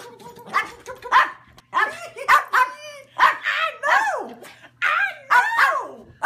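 Excited dogs let out a string of close, sharp barks and high yips in irregular bursts, with a few whimpering notes between them and a person speaking over the commotion.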